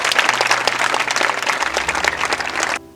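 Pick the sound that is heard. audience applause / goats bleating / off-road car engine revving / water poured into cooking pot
audience applause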